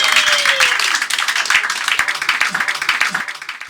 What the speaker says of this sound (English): Big round of applause, big first band on tonight.